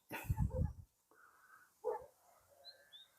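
A dog barks in a quick loud burst from atop a wall in Güzelyurt, Cappadocia, then lets out another short bark a moment later, with faint whimpering and outdoor quiet between.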